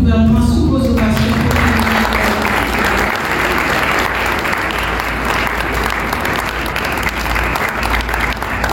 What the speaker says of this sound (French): On applaudit les membres du gouvernement sous vos ovations.